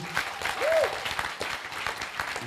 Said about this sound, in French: Et ça s'applaudit.